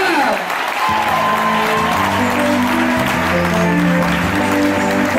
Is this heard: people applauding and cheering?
yes